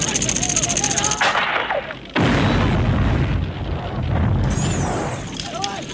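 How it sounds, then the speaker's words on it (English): Action-film explosions from explosive arrowheads in Rambo: First Blood Part II, heavy booming blasts with rumbling debris, loud and dense, with a sharp cut into a second explosion and faint film voices mixed in. "These arrowheads are causing warhead drop from an airplane type explosions"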